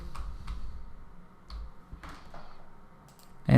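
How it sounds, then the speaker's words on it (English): Someone types stock names on a computer keyboard, a few scattered soft key clicks in a quiet room, ending on a louder bump. "So I just type here TCS"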